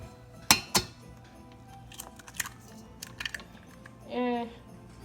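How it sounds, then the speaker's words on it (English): A single egg is cracked into a mixing bowl for Christmas cookies, giving two sharp, close taps against the rim and a brief crunch of shell, with dish clinks scattered through the rest of the moment. "For this recipe, we only need 1 egg, so that's all I'm gonna crack in here"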